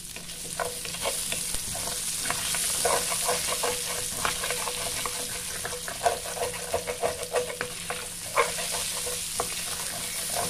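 Onion chunks sautéing in oil in a pot that previously browned beef for stew: a steady, close sizzle broken by frequent stirring scrapes and clinks, no one speaking.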